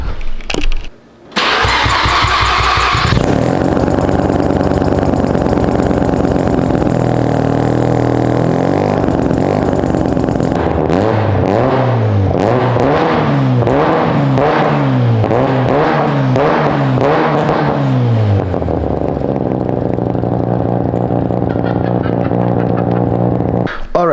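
Mazda RX-7 FD with a Pandem kit starts up in a workshop, its rotary engine idling loudly, then revving in repeated rising and falling bursts as it is driven onto a lift before shutting off.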